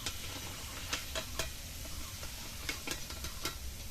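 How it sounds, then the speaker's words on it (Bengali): Potato french fries deep-fry in hot oil, a quiet steady bubbling sizzle with occasional sharper ticks and clinks as they are stirred. "ফ্রেঞ্চ ফ্রাইগুলো ডিপ ফ্রাই করে ভেজে নেব।"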